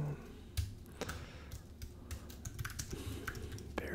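Quick bursts of computer keyboard typing during a Kings County Straight Bourbon whiskey tasting, close and crisp, with irregular clusters of key taps over a soft room hum.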